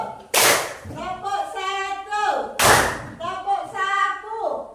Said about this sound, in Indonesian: sekarang kita tepuk satu